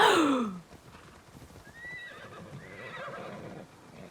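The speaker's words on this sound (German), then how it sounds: "Pferdchen! Du willst von mir gezähmt werden." A horse in the video game Immortals Fenyx Rising lets out a loud, descending whinny at the start, then softer snorts and a few light hoof clops follow.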